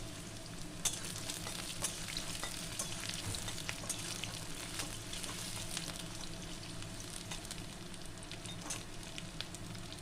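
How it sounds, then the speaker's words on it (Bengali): Potatoes frying in oil in a pan with green chillies, a steady close sizzle with occasional scraping and stirring clicks, continuous and even throughout, no voices. "আলুটা লাল করে ভেজে নেবো"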